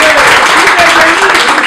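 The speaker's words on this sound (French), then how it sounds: "Encore donner l'applaudissement pour le roi de la parole." An audience claps continuously and loudly at a Paris press conference, with talk mixed into the applause throughout.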